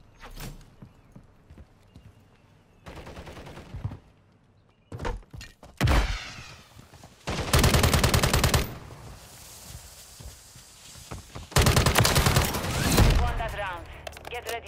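Bursts of rapid automatic gunfire erupt in a shooter video game firefight on the Blacksite map, loud dense volleys alternating with quieter gaps of scattered shots and thuds.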